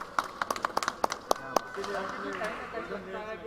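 A small group claps in quick, uneven bursts for the Indian Prime Minister, about a dozen sharp claps over a second and a half, before a voice starts talking and carries on over background noise.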